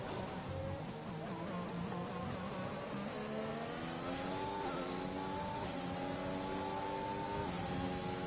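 An F1 race car engine screams past in F1 2021 at the Mexican Grand Prix, a loud buzzing whine that rises and shifts pitch through several gear changes, sustained with no talking.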